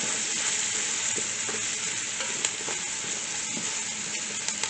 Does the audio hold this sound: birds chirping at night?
no